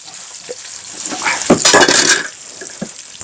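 A metal pot is lifted from a robot curry cooker where fish is frying. Metallic clinks and scrapes rise into a louder rattling clatter midway, then fade back to a soft sizzle with a few light knocks.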